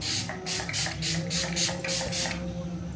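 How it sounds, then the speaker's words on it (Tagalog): Setting spray misted onto a made-up face in about eight quick, close pumps, each a short breathy hiss in a steady rhythm, with no speech over it. "spray lang natin para maging long-lasting lalo yung ating makeup"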